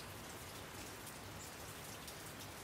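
Dense, steady downpour of tropical rainy-season rain hissing on surfaces, an even, enveloping wash with no pauses and no voices.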